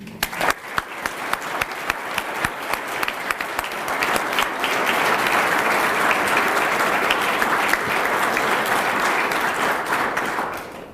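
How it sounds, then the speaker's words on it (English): Sustained applause from an awards ceremony audience, starting with scattered claps and swelling into steady, dense clapping that fades slightly at the end. "Please join me in a round of applause for their contribution."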